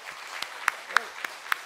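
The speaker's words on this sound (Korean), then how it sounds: "여러분들 자축 박수 한번 합시다" A church congregation at a Sunday service gives a handful of scattered, faint handclaps, a few sharp isolated claps spaced apart rather than a full round of applause.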